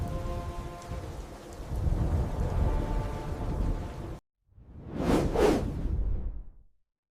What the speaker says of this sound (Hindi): पाकिस्तान में तूफान आया।